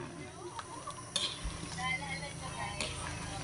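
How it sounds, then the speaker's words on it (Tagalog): A spoon stirs crushed mung beans in a pot while making Batangas tinutong, giving soft scraping and a few clinks against the pot over a low, steady background hum. "So ngayon, imekos-mekos natin."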